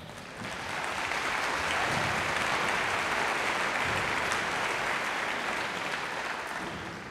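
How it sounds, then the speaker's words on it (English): An audience applauds after a high school madrigal choir performance, a dense, loud wash of clapping that swells in quickly and holds strongly to the end. "Give yourself a round of applause."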